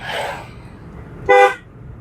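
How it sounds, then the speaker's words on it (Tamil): A single short car horn honk sounds clearly over low road noise. "ஹார்ன் அடிச்சிருங்க. ஹார்ன் வலது கையில் யூஸ் பண்ணுங்க."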